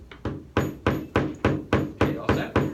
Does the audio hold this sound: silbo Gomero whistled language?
no